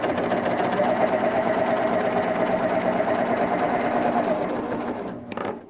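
A Baby Lock Applaud sewing machine runs steadily as fabric is guided through it, a continuous close mechanical whir that stops abruptly near the end.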